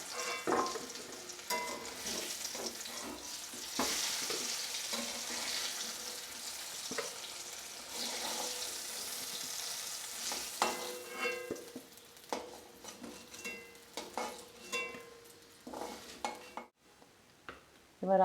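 Potato pieces sizzle and fry steadily in oil in a wok over medium heat, with occasional stirring scrapes and utensil clinks, close and continuous before fading out near the end.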